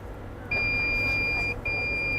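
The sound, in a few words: device beep when connecting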